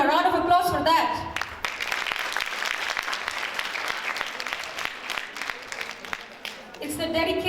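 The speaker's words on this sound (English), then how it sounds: "Come on, a round of applause for that." A seated audience at a Pakistan English Academy anniversary event gives a round of applause: dense, steady clapping that swells for several seconds, with a voice talking before and after.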